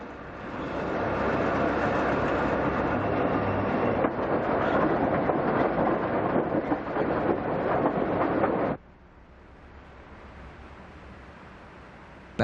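A diesel train rolls along the Western Pacific main line near the Virgilia high bridge in Feather River Canyon, a loud steady rumble with engine roar that drops abruptly to a faint low hum near the end.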